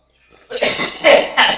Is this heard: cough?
yes